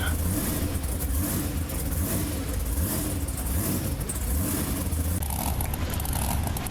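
Engine of the Overkill Evolution monster truck in the BeamNG Drive video game, at Bristol Motor Speedway, a steady, loud, dense roar with slight rises and falls in revs that runs unbroken throughout.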